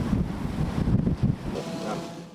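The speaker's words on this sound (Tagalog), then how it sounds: "Dama rin ang lakas ng ulan at hangin sa Pasay City." Strong wind and heavy rain lash Pasay City during a storm, a steady broadband roar of gusts and downpour buffeting the microphone for the full stretch, with surges and lulls.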